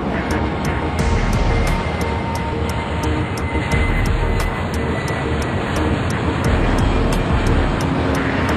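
Airliner departing in the Airport Madness game at Vancouver, a steady broadband jet engine roar rising and holding throughout, with a regular high-pitched ticking overlaid and no talk.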